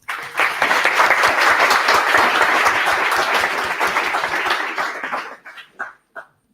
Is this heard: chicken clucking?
no